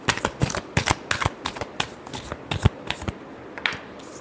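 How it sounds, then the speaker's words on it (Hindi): Tarot cards are shuffled by hand in a series of crisp riffling bursts and slaps, close and fairly loud, with short pauses between them and no talking. "Last shuffle."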